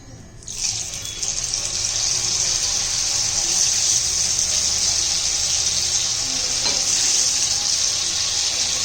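Round eggplant slices coated in batter mixed with breadcrumbs fry in hot oil, a loud, steady, dense sizzle that starts abruptly and holds evenly throughout with no talk.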